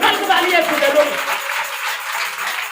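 A church congregation at a Thursday prayer service applauds together, a steady wash of clapping throughout with voices mixed in.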